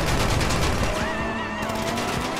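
Rapid gunfire in GTA V Online as players shoot at a van, a dense, loud continuous fusillade of game shots filling the whole moment, with a rising whine layered over the middle.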